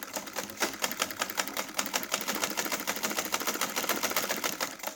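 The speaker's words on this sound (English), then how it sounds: "So you're going to sew this right down. Always make sure you're sewing with a straight line." A sewing machine stitches pleats into fabric, running in a steady rapid mechanical patter that stays fairly close and even throughout, with no talking over it.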